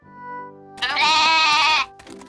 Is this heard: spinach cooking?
no